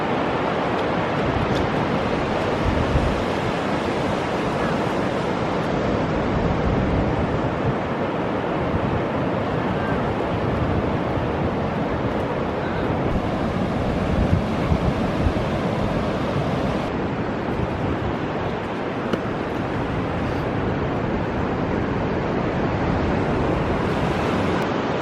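Ocean waves washing onto a beach, a loud continuous roar of surf with gusty wind buffeting the microphone throughout and no talking.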